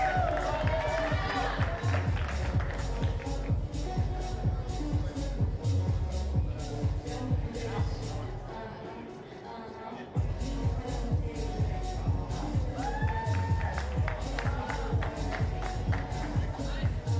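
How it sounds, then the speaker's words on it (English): An audience at a street workout Nordic championship claps steadily and rhythmically for athlete Hanna Nygård, with cheering and voices mixed in. The clapping dips briefly partway through, then resumes at full strength. "Big round of applause for Hanna Nygård,"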